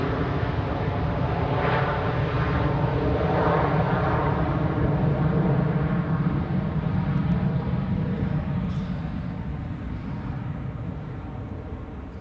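A Boeing 757 in Icelandair special livery at Zurich Airport produces a loud, steady jet roar that holds for several seconds and then slowly fades, with no talk over it.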